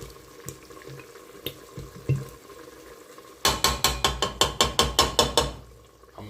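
Second jar of plain tomato sauce being tipped into a cooking pot for meatballs: quiet clinks and scrapes at first, then a rapid series of about a dozen loud, rhythmic glugging slaps as the sauce pours out, up close.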